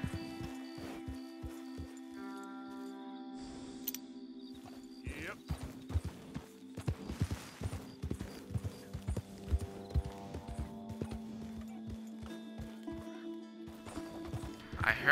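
Zebra in Red Dead Redemption 2, heard as rhythmic clip-clop hoofbeats on ground with a braying, donkey-like whinny rising partway through, while people talk quietly in the background.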